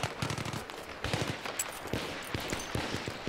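Rapid gunfire crackles through a Battlefield 3 battle, with a sharp, loud blast that fits a grenade going off among the shots.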